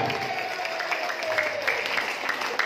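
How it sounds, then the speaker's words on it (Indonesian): An audience applauds steadily, a dense wash of clapping hands at moderate loudness through a crowded hall at a marketing plan presentation, with a faint tonal hum beneath and no clear speech on top. "Tepuk tangan buat kita semua."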